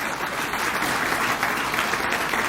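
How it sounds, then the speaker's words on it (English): A hall audience at a Tuskegee athletics hall of fame ceremony gives a young former quarterback a round of applause, a loud, dense burst of many hands clapping steadily throughout. "let's give this young man a round of applause"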